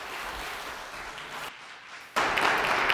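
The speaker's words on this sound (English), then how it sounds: "Can we give them a round of applause and yourselves for..." Audience at a MicroStrategy Connect World 2023 conference session breaks into a round of applause, steady and moderate, dipping briefly before a louder surge of clapping near the end.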